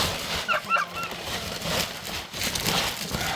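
Farm poultry kept through a cold, wintry season call out in a few short honking squawks near the start, then a quieter, noisy farmyard background follows.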